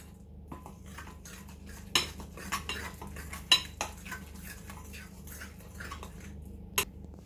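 A knife stirring muffin batter of flour and eggs in a bowl, with a soft steady scraping and occasional sharper taps against the bowl, close but quiet, no voices.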